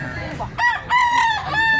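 A rooster crows at a chicken market in Consolacion, Cebu, giving two or three loud, drawn-out harmonic calls in quick succession, close by, over a low murmur of market background.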